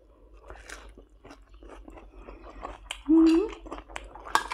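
Close crunchy chewing and biting of spicy Thai-Lao papaya salad (tam sua) with crispy fried noodle pieces and finger-shaped snacks, with soft clinks of utensils and a brief vocal hum.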